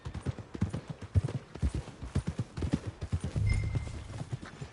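Horse hooves clip-clop in a steady, fairly close rhythm in a video game, with a brief low rumble of movement near the end and no talk over them.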